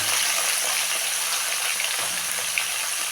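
Eggplant frying in hot oil with fenugreek and nigella seeds, a dense, steady sizzle that holds close and loud for the whole stretch with no voices.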